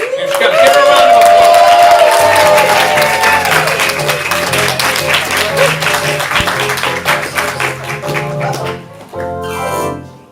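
An audience at a ComedySportz improv comedy show applauds and cheers as a performer comes on, loud sustained clapping and whoops with cheering voices mixed in, fading toward the end before a brief final burst.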